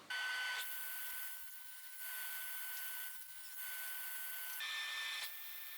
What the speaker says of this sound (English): We already have the blade saw set up, so I'll do the next cut on the smaller piece.